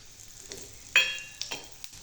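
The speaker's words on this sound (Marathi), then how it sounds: "तर थोडे खडे मसाले टाकायचे." Whole spices drop into hot oil for an egg masala curry and burst into a sharp, sudden sizzle. The crackle then fades, with a few small clinks, and no one speaks.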